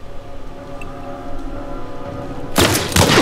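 In The Last of Us on PS5, a steady low engine-like drone gives way near the end to a loud burst of rapid gunfire, sharp and close.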